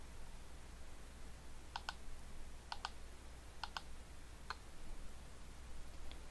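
A computer mouse clicks repeatedly on the step button of a Java debugger in BlueJ: about five faint, sharp double clicks, evenly spaced, with a low background hum and no speech.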